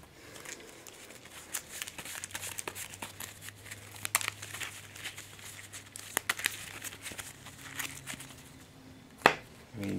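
Cards being handled and shuffled during a Cardfight Vanguard trading card game match, heard as a steady run of soft crinkly riffles and snaps, fairly close, with a sharper slap near the end.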